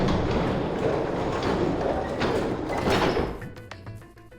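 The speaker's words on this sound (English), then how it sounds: "and the gate creaked open" A heavy metal gate in Zero Escape grinds and rumbles open in a broad, scraping rush lasting a few seconds, then settles into quieter knocks and tonal rattles as it comes to rest.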